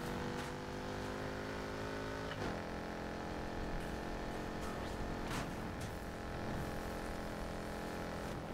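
Ford Focus RS engine revving in Need for Speed Heat, a steady loud game engine drone with rising and falling pitch sweeps through the gears, continuous and close throughout.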